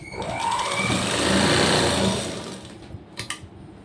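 A sewing machine runs steadily while stitching a blouse seam, pushed back and forth for a reverse stitch, then slows and stops with a few light clicks near the end.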